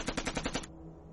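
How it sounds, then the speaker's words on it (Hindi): A rapid burst of about six loud gunshots in quick succession, sharp and close, then abrupt silence with a faint low hum. "ये जो फायरिंग है ये उनके बंदूक की है।"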